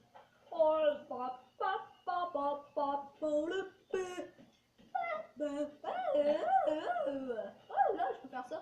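A dog in the Assassin's Creed 4 video game whines and howls in a long run of repeated, rising and falling cries, fairly close and clear.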